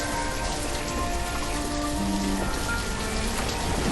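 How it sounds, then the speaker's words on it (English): Steady rain falls in the city-building video game Banished, a dense, even patter of drops that holds constant throughout, loud and alone with no voices. "It's rained pretty much constantly since the start of the year"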